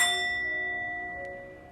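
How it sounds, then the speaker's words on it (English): A Tibetan singing bowl struck on its side with a mallet rings out once with a bright, sustained metallic tone that slowly decays, plus a faint extra ping partway through, with no talking. "So this is a Tibetan singing bowl, and I hold the mallet on the side,"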